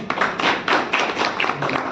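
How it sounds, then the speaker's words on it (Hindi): Lively audience applause welcoming a speaker at a Bharat Raksha Dal meeting, a dense patter of many hands clapping steadily and fairly close for the whole stretch. "जोरदार तालियों से स्वागत करें"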